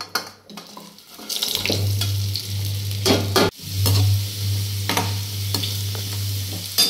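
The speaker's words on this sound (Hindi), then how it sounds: "बस इसको ऐसे हल्का हल्का ब्राउन करना है, ज़्यादा ब्राउन नहीं करना।" Arbi with onion and tomato frying in mustard oil, a steady loud sizzle close by with scraping stir strokes and brief clatters throughout.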